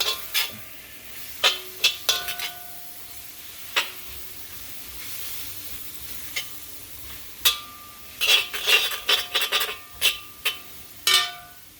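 Tomato and salt stirred in a cooking pan for coconut chicken curry, with sharp metallic clinks and scrapes of a utensil against the pan in irregular bursts over a faint sizzle, close by.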